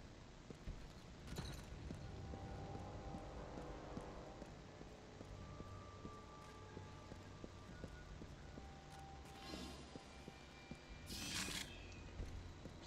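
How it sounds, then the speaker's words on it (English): Faint, regular footsteps in the shooter game Resistance: Fall of Man, a soft repeating tread heard alone over a quiet ambient hum. "I hear footsteps."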